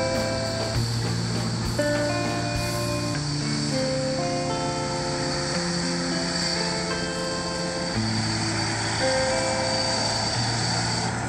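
A jet airliner taxis at Manchester Airport, a loud steady engine roar with sustained whining tones that shift pitch over several seconds, heard alone without talk.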